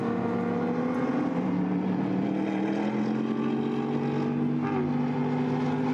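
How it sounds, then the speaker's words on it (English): A BMW straight-six race car at a Nürburgring endurance race holds a sustained, droning engine note with strong harmonics, its pitch gliding slowly upward as it runs past. "Makes a great sound. Presumably that's straight six in the BMW"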